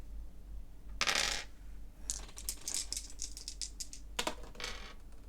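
Dice for the Star Wars: Imperial Assault board game, green and white, rolled on a table, several bursts of rapid clattering and rattling close by, with brief pauses between the tumbles.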